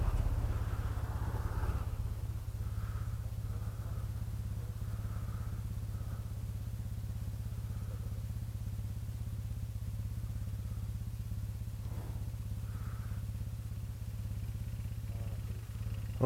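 A Kymco Xciting 400i scooter rides along a seaside road, its engine giving a steady low drone over road and wind noise, close and continuous.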